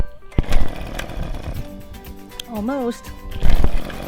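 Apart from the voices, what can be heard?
pull-starting a gas string trimmer engine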